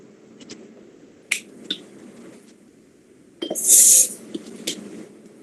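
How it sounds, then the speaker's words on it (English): Two quick aerosol spray bursts, one short and one longer hissing blast, with small clicks and handling noises around them in a quiet room. "you need a hairspray. So if you don't have a hairspray, you can work with other sprays as well"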